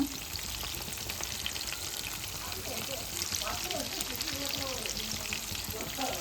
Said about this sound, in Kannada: ಚಲೋ ಫ್ರೈ ಅವಾಜ್ ನೋಡ್ರಿ ಎಷ್ಟು ಚಲೋ ಹೊಂಟದ